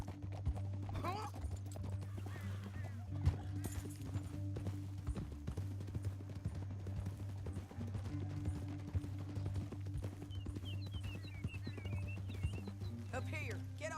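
Horses gallop in the Red Dead Redemption 2 video game, with steady hoofbeats running continuously under a low music drone and occasional voices.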